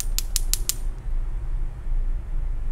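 A copper-pin RCA jack connector on an AV cable is handled, giving four quick, sharp clicks in the first second, followed by a low, steady background hum.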